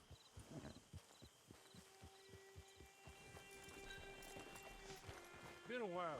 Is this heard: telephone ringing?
no